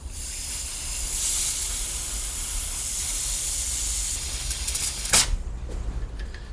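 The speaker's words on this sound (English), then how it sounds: "the first job we've got to do is to charge the gas cylinder" A steady, close hiss of gas rushing under pressure as a model steam railway gas cylinder is charged runs continuously, then cuts off with a brief click and faint rustle.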